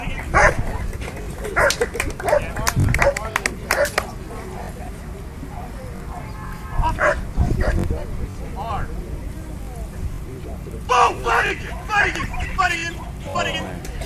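A police K9 barks in bursts of loud, close woofs during a recall demonstration at an outdoor charity event, with someone speaking over and between the barks.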